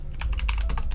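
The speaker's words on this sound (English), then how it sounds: "to make my keyboard sound deeper during my streams and more satisfying during my streams, I actually lift the back part of it and rest the back part on a wrist cushion" Quick, steady typing on a computer keyboard whose back edge is propped on a wrist cushion for a deeper sound. Close, clacky keystrokes land in a fast, uneven patter with a low thump under each press, and no voice.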